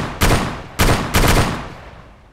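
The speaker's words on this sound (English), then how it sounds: "So 20 bullets from the DSHKM, and it is history." Three heavy, booming shots from a DShKM machine gun fired at a vehicle in the video game DayZ, close and loud, each blast decaying into a short echo.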